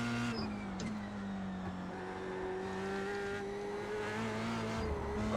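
An F3 race car engine in a racing video game holds a steady high whine with slight pitch shifts as the throttle is worked, loud and continuous with no talking.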